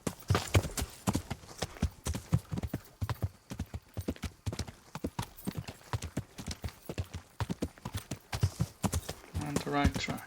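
Horse hooves clip-clop in the video game Deadly Sins Lust, a quick, steady rhythm throughout, close and fairly loud, with a brief whinny-like sound near the end.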